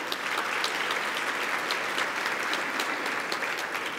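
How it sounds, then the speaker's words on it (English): Audience applause at the Spirit of Innovation 2012 event, greeting senators' representatives, with dense, sustained clapping from a large crowd. "we'll give them a round of applause."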